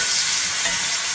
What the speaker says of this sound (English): you have to have it on a little bit of a medium-high heat so that it really sizzles.